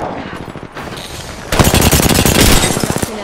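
Rapid automatic gunfire from the video game Apex Legends crackles in dense bursts, sparser at first and then a loud sustained stream of shots that stops abruptly.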